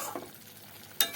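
Paneer cubes being stirred into a palak spinach curry in a pan, giving a brief soft scrape near the start and a sharper stir or sizzle burst near the end, close by with no talking.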